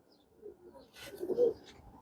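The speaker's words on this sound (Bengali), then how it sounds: "এইটা হচ্ছে আমার এক লক্ষ টাকা দামের কবুতরের বাচ্চা" A pigeon chick gives soft, low coos in short bursts, fairly close and quiet, with a slightly louder call near the end over faint background noise.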